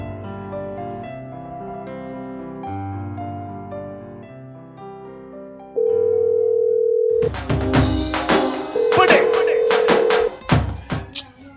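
An unanswered phone call: after a run of melodic electronic tones, two long steady ringing tones sound with a pause between them, set against busier clattering sound.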